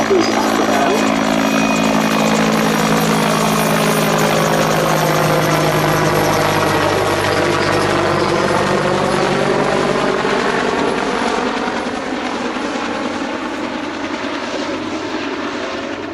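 A Westland Whirlwind helicopter's heavy rotor thump and engine whine at an airshow, loud and steady, gradually easing as it moves off into the distance.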